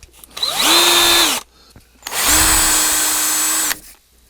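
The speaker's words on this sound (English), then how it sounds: "Now I'm going to drill this here out, so it'll slide over" A power drill bores out a fishing rod arbor so it will slide over the blank, in two sustained whirring runs with spin-up and wind-down, loud and close with no talk.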